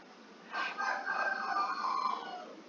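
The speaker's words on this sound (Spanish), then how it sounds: "Hasta el gallo se oye trabado" A rooster crows once, a loud, drawn-out call that rises and then trails off, heard over faint background hiss.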